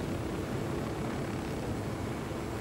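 A drone in the video game Ghost Recon Wildlands gives off a faint, steady airborne whir and rush that holds evenly throughout with no other sounds.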